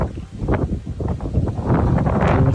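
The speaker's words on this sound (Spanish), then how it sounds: "Vemos el ventarrón que hacía ahí." Strong mountain wind gusts buffet the microphone during an Alpine paragliding race, a loud, continuous rough rumble that swells and builds toward the end with no talking.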